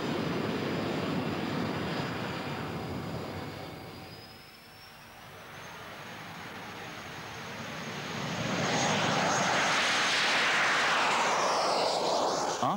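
A Jet Provost jet trainer roars past in flight, a broad hissing jet noise with a high whine that dips briefly, then swells louder again.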